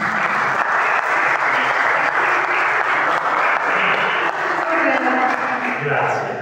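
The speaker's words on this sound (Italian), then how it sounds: "direi di fare un applauso a tutte le signore" An audience at a May celebration in Sermoneta applauds the ladies with a steady, dense round of clapping that fills the whole stretch, loud and sustained, with some voices mixed in beneath it.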